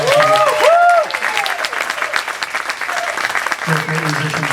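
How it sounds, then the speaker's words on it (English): A crowd applauds the Disneyland All-American College Band at an outdoor show, a brief burst of clapping and cheers mixed with a sustained horn note and someone talking over it. "How about one more round of applause?"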